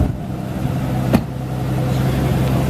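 A hypercar engine runs steadily close by, a low idle hum marked by one sharp click or blip partway through, then a slight rise in level toward the end; no one speaks.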